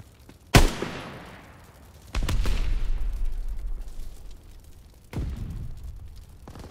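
Three heavy gunshot bursts in a Call of Duty: WWII hardcore team deathmatch on the Aachen map, each a sharp loud crack followed by a rumbling, echoing tail, spaced a few seconds apart.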